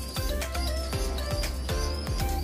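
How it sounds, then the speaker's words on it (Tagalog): A large bird, apparently a racing pigeon, calls amid busy outdoor noise, with repeated short sharp sounds over a dense, loud background. "Laking ibon, oh."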